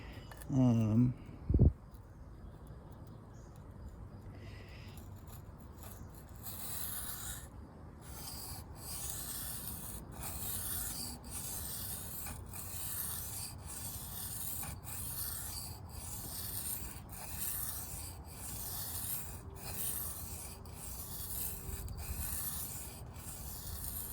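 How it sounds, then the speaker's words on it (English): A Kershaw Trace knife blade drawn over a sharpening stone in light, rhythmic strokes, a steady soft scraping with regular brief pauses, close and fairly quiet, after a few loud knocks at the start. "Doing a little pinpoint sharpening."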